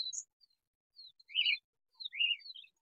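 Bird calls at a Mumbai bird market selling pigeons: a short high chirp followed by two brief twittering bursts, faint and alone with no talk.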